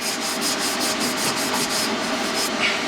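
Abrasive cleaning of a metal downpipe for an LS-swapped Foxbody before TIG welding, heard as a loud, continuous close-up scraping rub with quick, regular back-and-forth strokes.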